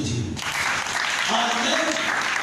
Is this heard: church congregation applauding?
yes